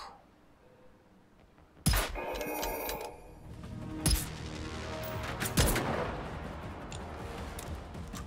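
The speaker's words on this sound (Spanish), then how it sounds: "Tres disparos." Gunfire in the video game Generation Zero: three sharp, loud shots at roughly two-second intervals, each cracking out over a steady background of ambient game noise, with no talking.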